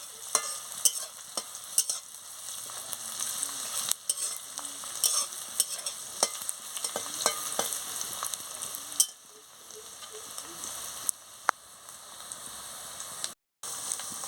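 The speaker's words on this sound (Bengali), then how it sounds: "পেঁয়াজটা ভালো করে ভেজে নিচ্ছি, লাল লাল করে" Onions sizzle steadily in a pan as they fry until browned, punctuated by sharp scraping and clicking of a spatula stirring. No voices are heard.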